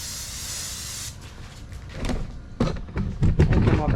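Pam cooking spray hisses from an aerosol can onto the back of an elephant ear leaf cast for a concrete birdbath, a steady broad hiss for about a second, followed by handling noises and clatter.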